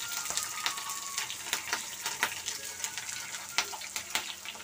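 Chana dal, curry leaves and green chillies fry in a pan with a soft, crackling sizzle broken by small irregular pops and stirring clatter, fairly quiet and close.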